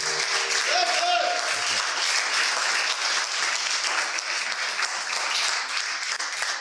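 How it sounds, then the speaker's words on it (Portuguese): Sustained crowd clapping at a church youth gathering, dense and steady throughout, with a brief voice or musical tone near the start. "Eu queria lançar um de palmas para Jesus para glorificar o nome do Senhor."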